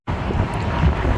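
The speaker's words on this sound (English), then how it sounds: "Can you tell how windy it is?" Wind buffeting an outdoor microphone, a loud low rumbling roar that starts abruptly and continues unbroken with gusty swells, no voices over it.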